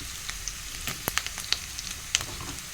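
Green chillies frying with onions in a pan give a steady, close crackling sizzle, dotted with small pops and the occasional stir, with no voices over it.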